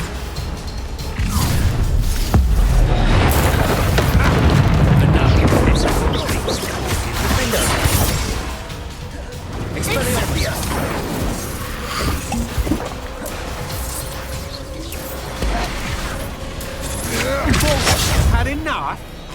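Confringo explosion spells cast in a Harry Potter video game, loud rumbling blasts and crashes mixed with clinking debris and game sounds, with a voice speaking at times over the commotion.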